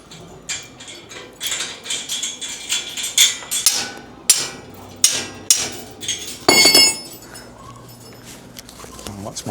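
Metal strikes on a sword at a castle blacksmith display, a series of sharp ringing clanks in an irregular rhythm, close and loud, with a few quieter knocks between and voices speaking nearby.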